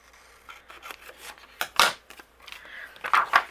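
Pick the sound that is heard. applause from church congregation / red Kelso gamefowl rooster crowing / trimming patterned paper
trimming patterned paper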